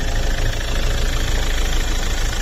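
A Toyota Previa 2.0 D4D diesel engine idles steadily and close by, giving a continuous low rumble with a faint knocking texture and no talk over it.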